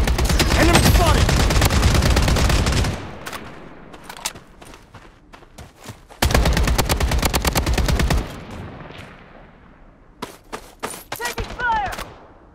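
Rapid automatic gunfire bursts in the shooter game Blood Strike, dense machine-gun volleys for several seconds, a pause of scattered single shots, another long burst, then sporadic cracks.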